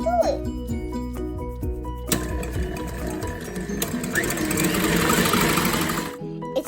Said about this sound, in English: We have to turn the mixer on